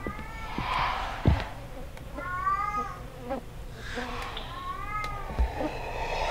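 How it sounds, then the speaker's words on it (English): A kitten meows in the horror game Erie, several high plaintive mews coming in short bursts over a low ambient hum, with some voice-like noise in the background. "There's a kitten in here."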